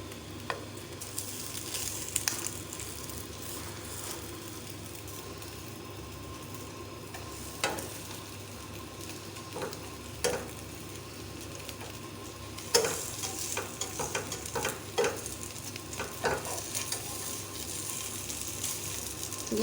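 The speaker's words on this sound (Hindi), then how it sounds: "हम 2 मिनट हम इसको फ्राई होने देंगे, फिर हम साइड चेंज करेंगे।" Potato bread rolls fry in a pan with a soft, continuous sizzle, broken by scattered clicks and scrapes of a utensil turning them, busier toward the end.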